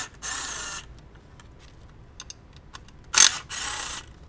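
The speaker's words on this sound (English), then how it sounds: "Now we'll loosen the 3 10 millimeter bolts." Ratchet loosening 10 mm bolts on the engine of a 2002-2006 MINI Cooper R53 during a cylinder head job, with three bursts of rapid ratcheting clicks separated by pauses and light tool taps, close and clear.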